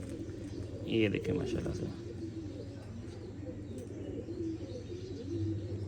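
A male red-eyed Indian Surkhey pigeon coos softly close by, low murmuring calls with a brief flutter, while someone talks over it.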